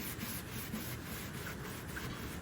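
Steady, close sanding of a guitar body: a continuous gritty rubbing with a faint rhythmic back-and-forth, no voices.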